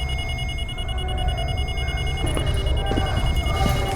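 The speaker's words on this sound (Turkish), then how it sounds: "Sanırım mavi alarm durumu." A blue alert alarm in Crysis Warhead drones with steady electronic tones over a low rumbling background, continuing throughout without pause.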